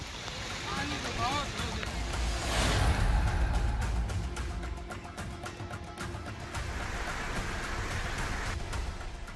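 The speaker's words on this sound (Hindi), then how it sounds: "लगातार हो रही तेज बारिश" Heavy monsoon rain pours down in Gujarat's Kheda district amid flooding, a dense continuous hiss of downpour that swells slightly midway, with faint voices beneath.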